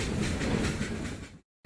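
The Ooty toy train climbs the Nilgiri mountain railway with a steady, loud rumble and rattle of carriages heard from on board, cutting out briefly before the noise returns.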